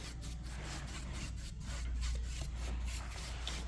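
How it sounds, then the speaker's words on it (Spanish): A new brush sweeping dust off wooden pieces before varnishing, quick rhythmic bristle strokes rubbing close against wood, steady and without talk. "voy a iniciar usando la brocha también para sacudir un poco las piezas que no tengan polvo"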